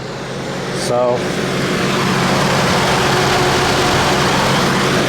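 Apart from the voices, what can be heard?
GMC Envoy engine starting up and idling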